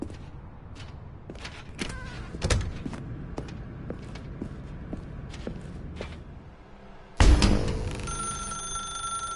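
A telephone rings in The Stanley Parable video game, repeated trilling rings in a quiet room with soft footsteps between them, then a loud, bright ring bursts in near the end.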